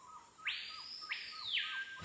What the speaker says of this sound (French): Ça claque au milieu des chants d'oiseaux